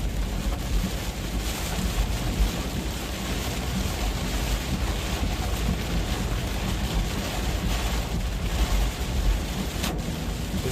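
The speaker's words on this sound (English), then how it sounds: "We should start seeing some winds picking up here a little bit." Storm wind gusting near Richmond, Virginia, a loud continuous rushing roar that buffets the microphone without pause, with deep rumbling underneath.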